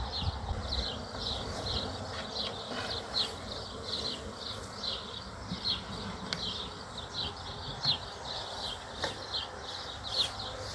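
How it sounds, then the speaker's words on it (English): A swarm of honey bees hums continuously around a tree in late July, a steady, moderately faint buzz with a repeating pulsing chirp over a low background. "There's still another ball of bees in the tree here"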